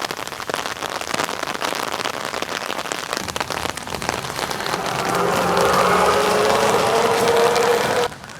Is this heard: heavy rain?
yes